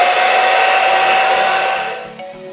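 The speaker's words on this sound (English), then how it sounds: "take my wig and your blow dryer on cool settings" A hair dryer on its cool setting blows with a steady loud whir, then winds down and quiets near the end.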